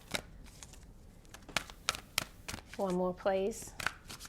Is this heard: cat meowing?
no